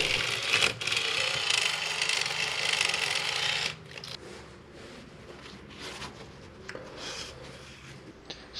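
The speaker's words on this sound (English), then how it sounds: "So I'm going to go ahead and clean this up the best I can before I put it back together." Scrub brush working corrosion off a Moen faucet part with white vinegar: steady, close, gritty scrubbing for several seconds, then softer, intermittent brushing.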